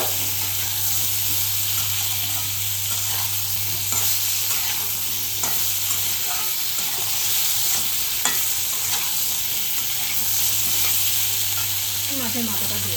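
Mixed vegetables for a traditional Bengali dish sizzle steadily in hot oil in a pan while a spatula stirs and scrapes them, a continuous loud frying hiss with occasional clacks.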